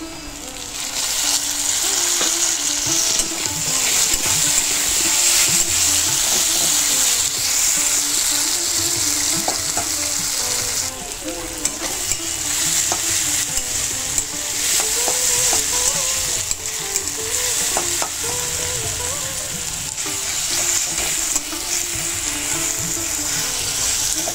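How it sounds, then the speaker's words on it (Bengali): Fried onions and tomato sizzling loudly in a pan for a spicy fish curry, stirred continuously with scraping and clatter; a dense, close sizzle with no speech. "পেঁয়াজ আমাদের লাল লাল ভাজা হয়ে গেছে। এখন দিয়ে দিচ্ছি টমেটো,"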